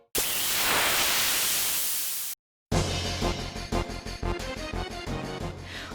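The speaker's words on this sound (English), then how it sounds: "The white noise stinger acts as a palate cleanser" A loud burst of white-noise hiss for about two seconds, a short silence, then rhythmic combat music with pulsing beats begins, from the Mako Reactor in Final Fantasy VII Remake.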